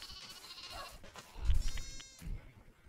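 Sheep bleat on a farm in the Minecraft video game, a few wavering game-style cries standing alone over a faint background, one louder than the rest.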